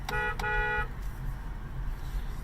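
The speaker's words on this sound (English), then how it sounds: "Alright, inside the car, windows up, horn test." An upgraded aftermarket horn on a 10th-generation Honda Civic honks twice in quick succession, heard from inside with windows up, the second blast longer, over a low engine idle.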